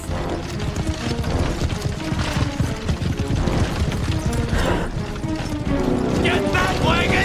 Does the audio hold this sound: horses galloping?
yes